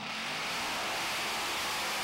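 A Class 6 mud drag racing truck at the Wheel Jamboree in Lima, Ohio roars at full throttle. The engine's steady, loud, rough howl is mixed with broad noise from spraying mud and carries through the whole stretch with no talking.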